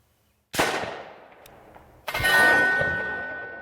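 A single loud .22 Long Rifle shot strikes a Firebird 50 reactive target mounted on steel at 10 meters; a sharp crack with a short decay is followed about a second and a half later by a second, louder burst that rings on and fades slowly.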